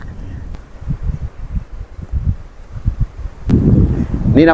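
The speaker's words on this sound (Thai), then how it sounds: "ลมพัดตลอดเลยเนี่ย" Wind buffets the microphone at a beach campsite at Hat Chom Phon in Phetchaburi, Thailand, in repeated low gusty rumbles that grow stronger toward the end.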